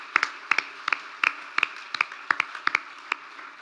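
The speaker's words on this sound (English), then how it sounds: "Give her a big round of applause." Applause for an award nominee whose award is being accepted on her behalf, a fairly small scattered group clapping in an irregular patter of distinct sharp hand claps, moderately close, with no talk over it.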